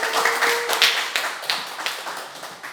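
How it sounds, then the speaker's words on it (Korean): A small audience at a citizens' assembly lecture on Donghak claps to welcome the lecturer. The claps are sparse, uneven and close, coming from a few hands rather than a full crowd. "조광 선생님께 뜨거운 박수 부탁드립니다"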